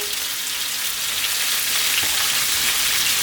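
Rosemary and garlic frying in a hot pan give a steady, close, bright sizzle with soft crackles throughout, and no voices over it.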